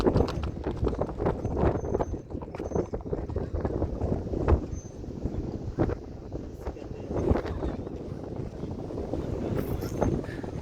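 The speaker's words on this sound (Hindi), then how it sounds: "ये ले जी अदरीस भाई घोड़े पे आएंगे।" A ridden horse in a village setting clip-clops steadily along, its hoofbeats continuous under heavy wind noise buffeting the microphone, moderately distant and fairly quiet.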